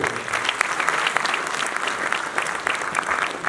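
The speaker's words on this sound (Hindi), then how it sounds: "एक बार अपने लिए जोर से ताली हो।" A hall of people at an annual general body meeting applauds loudly and steadily, dense clapping from many hands filling the room for a few seconds.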